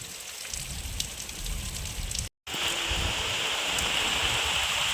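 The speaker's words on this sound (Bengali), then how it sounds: "আমাদের এদিকে বৃষ্টি হচ্ছে আর কি সুন্দর হালকা হালকা বৃষ্টি মানে শুরু হয়ে গেছে" Light rain falls steadily with a dense, even patter of drops on surfaces, broken by a short silent gap midway.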